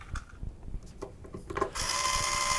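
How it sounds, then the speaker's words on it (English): Cordless screwdriver driving longer screws after the feet are removed, heard as scattered clicks and handling noise followed by a sustained steady motor whir near the end, close and moderately loud. "You can tell I'm just trying to justify here why I use a cordless screwdriver"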